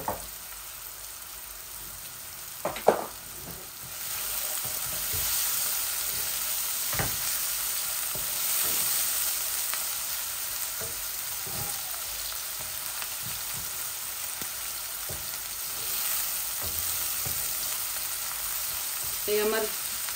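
Half-cooked onions frying in a pan hiss in a steady soft sizzle across the whole stretch, with scattered spoon taps and scrapes, one clatter near the start, and a brief faint voice.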